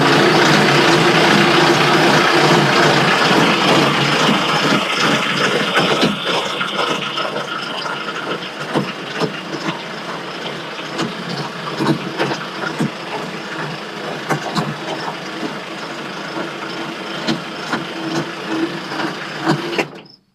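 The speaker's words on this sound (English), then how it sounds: "And you just saw my carriage go up, an automatic carriage feed." A Frontier OS27 sawmill's automatic carriage feed runs with a loud, steady mechanical whir and rumble that eases slightly after several seconds and continues with faint rattles and knocks throughout.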